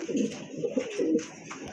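Pigeons kept for sale, active and fresh, coo in a short burst of soft rolling calls, close and moderately loud, with a faint click near the end.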